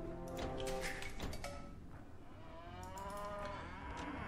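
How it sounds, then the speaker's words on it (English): Cattle lowing in Age of Empires II, several drawn-out moos in a row over a steady game background, moderately loud with no talk. "Okay, we got more cows."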